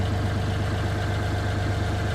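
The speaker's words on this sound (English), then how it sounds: "Now we've got the engine running," A Moody 336 sailing boat's inboard engine idles steadily, a close, even low throb with a regular pulsing chug and no voices over it.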